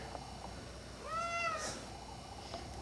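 A cat gives a single short meow, faint and somewhat distant, over a quiet indoor room hush.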